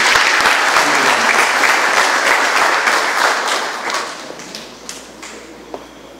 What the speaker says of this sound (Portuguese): Pode aplaudir bem forte.